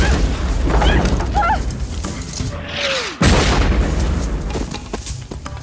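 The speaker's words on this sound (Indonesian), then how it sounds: "tiba-tiba terjadi ledakan" Explosion in a film scene where castaways on a remote island are attacked by pirates; a descending whistle leads into a sudden loud blast near the middle, surrounded by dense rumbling effects and faint voices.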